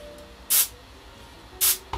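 An airbrush spraying paint colour onto ceramics gives two short bright hissing bursts about a second apart, followed by a brief third puff, close and clear over a quiet room.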